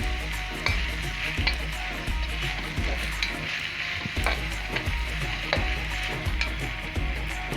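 Chopped onions sizzle in hot oil in a pan, a steady crackling fry punctuated by regular stirring knocks of a utensil against the pan.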